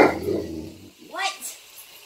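An excited dog lets out a short, high-pitched bark or yip close by, right after a stretch of someone talking, in a kitchen where cinnamon rolls and ham are cooking in a waffle maker.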